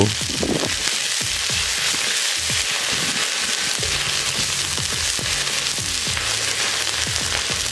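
Ginger paste and cumin-coriander paste fry in a pan for a Bengali kalai prawn dal, a dense crackling sizzle up close with repeated scraping and stirring strokes throughout.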